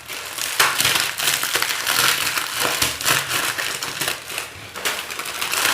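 Close, steady crushing of packaged Mie Sedap Goreng instant fried noodles, a dense stream of brittle crackling and snapping as the dry block breaks inside its plastic wrapper, continuous for several seconds with no talking.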